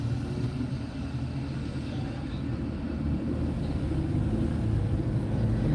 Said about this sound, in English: We got a Mustang to our left, so I want you to hear this.